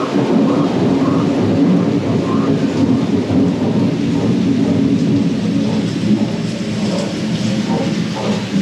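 Thunderstorm with steady heavy rain in Darwin, a continuous broadband downpour with low rumbling thunder rolling underneath throughout, loud and close with no speech.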